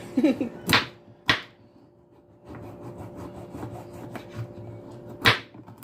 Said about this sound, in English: Find them very tough and hard to peel. Even to scrape.